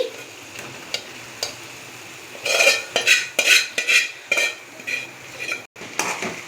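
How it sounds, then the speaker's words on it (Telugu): Boiled chicken being stirred with ginger garlic paste in a pan: a faint sizzle at first, then a run of close, rhythmic scraping and clattering strokes of a utensil against the pan. "చికెన్ వేసుకొని బాగా ఇలా కలుపుకోవాలి."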